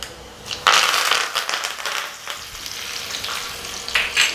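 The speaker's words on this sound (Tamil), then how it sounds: "உளுந்து லைட்டாக செவந்ததுக்கப்புறமா இதில் கருவேப்பிலை போட்டுடலாம்" Curry leaves hit hot oil with urad dal during tempering, giving a loud, crackling sizzle that flares sharply at first, then settles into steady frying hiss with brief spatters.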